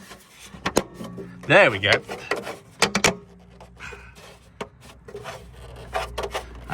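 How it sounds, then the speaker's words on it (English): Plastic retaining clips pressed into place along a Tesla wheel arch, heard as a series of sharp plastic clicks and pops mixed with rubbing and scraping, close by, with a brief spoken remark between them. "You can hear the clips start going into place"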